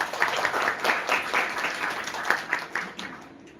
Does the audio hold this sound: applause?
yes